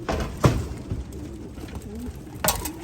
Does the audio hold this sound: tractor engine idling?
no